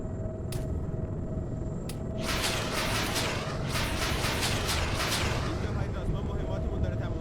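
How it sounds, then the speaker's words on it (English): Volleys of rockets fire from a PO-30 Orca utility helicopter at a group of vehicles in ARMA III, a dense run of loud blasts and crackling booms over a steady rotor drone that runs the whole time. "There is a whole bunch of vehicles there that I can just nuke with the rockets"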